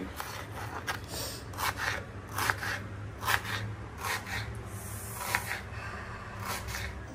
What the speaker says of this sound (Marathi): कांदा असा इतका पातळ कापून घ्यायचा, हा, असं व्यवस्थित कापून घ्यायचा